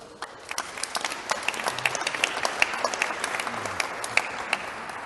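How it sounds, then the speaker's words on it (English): At a political hustings in Colchester, an audience gives a steady round of applause, with individual sharp claps standing out through the dense patter and no talk over it. "I can sense from all the applause that you've been getting"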